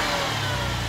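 A Jeep Trackhawk's engine revs up from idle, its exhaust droning with a rising whine that holds steady and loud up close, no voices over it.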